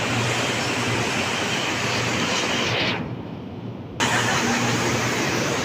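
Inside a train station in Kuala Lumpur, a loud, steady rumble of a train fills the space and dips briefly for about a second before returning at full strength.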